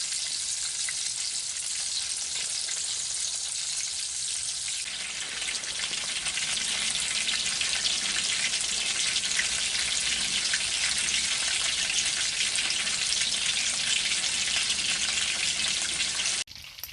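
Grey squirrel meat sizzles steadily in a frying pan, a dense, continuous crackle that grows fuller after the first few seconds and runs alone throughout.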